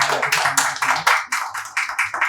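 An audience at an open-mic comedy evening claps in short, uneven bursts of applause, close and fairly loud, swelling and dipping for a couple of seconds with no talk over it.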